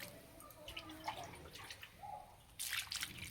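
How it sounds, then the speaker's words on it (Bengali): Bottle gourd leaves are rinsed in water, with soft splashes and drips close by that grow livelier toward the end. "পাতাগুলো কেটে নেওয়ার আগে ধুয়ে নেব।"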